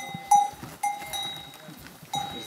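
Horses and donkeys wearing bells move around tents at a campsite on the Pic du Canigou, giving three or four clear metallic clangs spaced irregularly, close by, over soft rustling.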